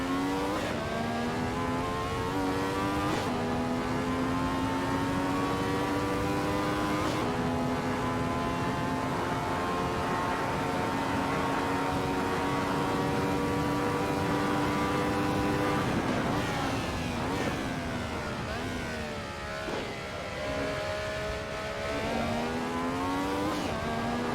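A Ferrari 312T race car engine in Assetto Corsa screams at high revs, its pitch climbing through gears with sharp shift drops and a lift around a corner, loud and continuous with no talk.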